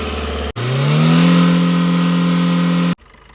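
The diesel engine of a 2018 Maruti Baleno Sigma revs up from idle in one smooth, rising sweep, held loud and close for a couple of seconds before cutting off sharply.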